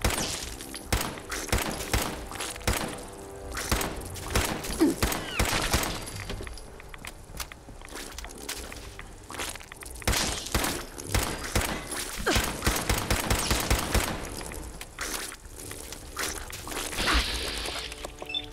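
Gunfire in Fallout 4, a long run of repeated sharp shots in irregular bursts, dense and moderately loud throughout, with no talk over it.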